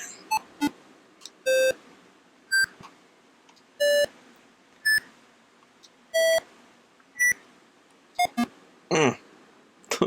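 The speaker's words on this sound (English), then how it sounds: "Those beeps." An Atari 2600 video game gives out a run of short, loud electronic beeps at varying pitches, spaced irregularly, with a rougher buzzing burst near the end.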